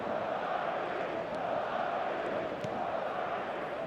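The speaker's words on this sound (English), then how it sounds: "the crowd level has gone up a notch or 10" A stadium crowd roars in a football video game after a goal, a sustained, steady wall of cheering at moderate level with faint commentary-like voice presence underneath.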